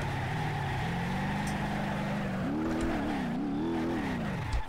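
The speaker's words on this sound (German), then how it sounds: "zumindest wenn man driften möchte" A car drifting in BeamNG.drive, with a steady loud engine drone whose pitch climbs and wavers as the tires squeal through the slide, heard alone without talk.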